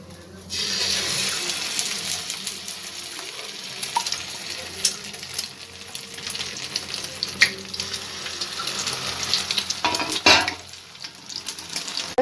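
Potato and maida batter snacks deep-frying in hot oil, a steady close sizzle and crackle running throughout with occasional sharper pops and stirring clinks.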